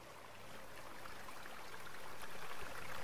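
A waterfall in the game RiMe rushes in a steady, soft wash of falling water that grows slightly louder over a few seconds, with no speech.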